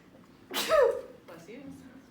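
A single sharp sneeze close to the microphone, followed by a softer breathy exhale, in a quiet lecture room.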